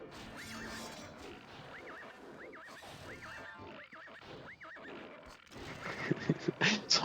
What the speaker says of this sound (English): these guys beating on his horse and making this racket